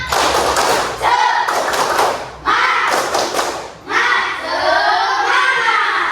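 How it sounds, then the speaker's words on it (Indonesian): A primary school class claps out a rhythmic spirit-clap pattern, loud, close and in group bursts separated by short pauses, with children's voices mixed in. "ayo semangat, tepuk semangat"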